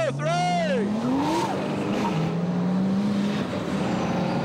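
Formula Drift cars in Houston, including Bubba Drift's El Camino, launching together, loud engines roaring and rising in pitch with sliding tire noise under an announcer's voice.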